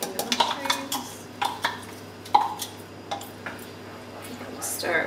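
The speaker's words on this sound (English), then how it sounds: "stir it well, so that's 1 cup of mushrooms" A spoon stirring mushrooms, onion and stock in a pot, with repeated sharp clinks of metal against the pot in an uneven rhythm while a person talks over it.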